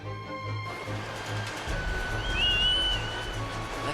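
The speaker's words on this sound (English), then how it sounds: "I like how she can just whistle with her thumb." A character whistles with her thumb in Skyward Sword HD, a thin rising and falling tone heard midway through over a steady game background hum.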